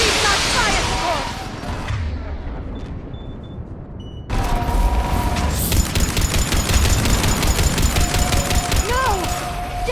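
Fire support gunfire in Mass Effect 3 during a battle on Thessia: loud rapid automatic bursts and heavy booms dense throughout, with a sudden surge of rattling fire partway through and shouted voices mixed in.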